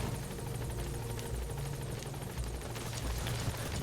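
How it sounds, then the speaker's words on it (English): A support helicopter arrives in the Metal Gear Solid V video game, its rotor blades chopping in a steady rapid thump over a loud, full engine roar, close and continuous, with no voices. "Support helicopter has arrived."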